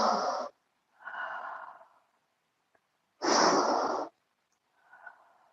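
Slow, deep breaths during a yoga half moon pose: a long exhale, then a softer inhale, a pause, and another strong, drawn-out exhale, each heard close and alone.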